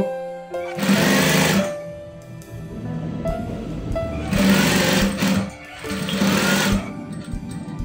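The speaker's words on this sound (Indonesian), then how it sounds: "Sekiranya sudah pas, kemudian kita jahit." Sewing machine stitching a double-welt pocket on children's trousers, with three close, loud bursts of rapid mechanical whirring separated by quiet pauses with faint handling sounds.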